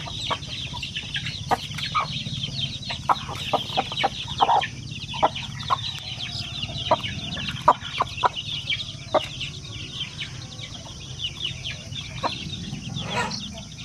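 Pure Basilan chicken chicks peep and cheep in rapid, scattered bursts close by, over a steady farmyard hiss with fowl clucking in the background.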